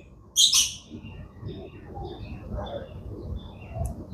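At a Chirala beach resort, a parrot lets out one loud, shrill squawk near the start, then softer chirps and calls from other caged birds follow over a low background murmur.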